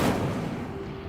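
A single heavy blast bursts out at the start of an Incendio fire spell in Hogwarts Legacy, then tails off into a rumbling decay.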